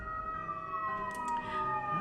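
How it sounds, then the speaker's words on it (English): An ambulance siren heard in the distance during a Sims 4 gameplay session, a steady wailing tone sliding slowly in pitch, moderately faint and continuous for the whole two seconds with no talk over it. "I'm assuming you guys can still hear the ambulance driving by"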